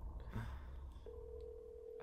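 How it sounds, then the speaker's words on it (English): Telephone dialing in The Walking Dead video game: a few soft key tones followed by a steady sustained tone, faint and alone without speech. "A working phone."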